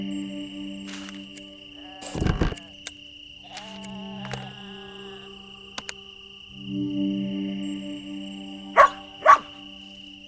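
A dog in the video game Lost Lands barks in a short burst near the middle and then twice more sharply toward the end, over a quiet tonal ambient background with faint chirps.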